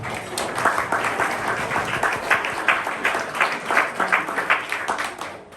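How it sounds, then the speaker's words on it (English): A pub audience gives a round of applause, a dense, lively patter of many hands clapping steadily for several seconds before tapering off at the end. "I'm going to start with a round of applause for you."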